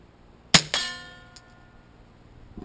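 A single sharp crack from a Ruger 22/45 pistol firing CCI Mini-Mag .22 ammunition, followed by a metallic ring and brief echo that fades over a second, with no talk.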